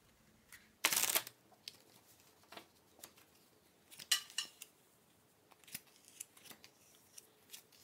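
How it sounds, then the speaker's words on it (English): Tarot cards laid down on a table during a reading, heard as a sharp shuffling snap near the start followed by scattered soft slaps and taps of cards placed one by one, close and quiet. "I'm going to put down 12 cards"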